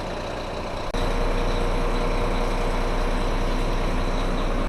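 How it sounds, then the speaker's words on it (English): A large AP2 East Perth bus pulls up at a stop in Albany and idles close by, a steady loud diesel rumble that swells after a short thump and holds evenly throughout. "So here's our bus, AP2 East Perth. It's a bigger bus than it was here before"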